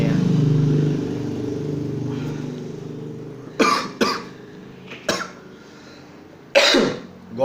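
Coughing from a person right after eating blueberry cheese and chocolate ice cream: several sharp, close coughs in short bursts following a low hum at the start.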